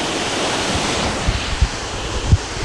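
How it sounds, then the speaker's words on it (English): A waterfall in the Glen Spean area running with its natural flow rather than dam release, a loud continuous broadband rush close by, with some wind buffeting on the microphone. "at the moment you're seeing the waterfall, just natural water flow"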